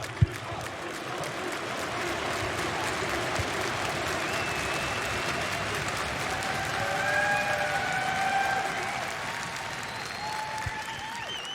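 A large crowd at an esports arena during a League of Legends final applauds and cheers in a sustained, dense roar of clapping, with whistles rising above it.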